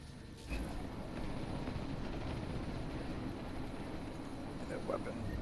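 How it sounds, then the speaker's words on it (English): A helicopter in the video game Deus Ex: Mankind Divided idles before takeoff, a steady low rotor and engine rumble that fills the clip at moderate level, with faint voices underneath. "That chopper's about to take off!"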